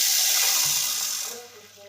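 Cold water pours from a tap into a cup, a bright rushing hiss that fades away toward the end, with a brief knock partway through.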